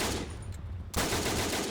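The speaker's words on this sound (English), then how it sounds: "But we'll let them keep shooting." Bursts of rapid gunfire from plastic toy soldiers in the Army Men: Plastic Wars video game, dense crackling volleys with a short lull before the shooting surges back in, heard without speech.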